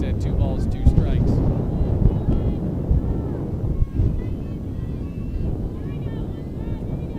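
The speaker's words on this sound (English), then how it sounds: "I really would love a meteorologist to come out here and explain to me why it is so windy in this particular spot" Strong gusty wind buffets the microphone at an outdoor softball field during a game, a continuous low rumbling roar that swells and eases throughout.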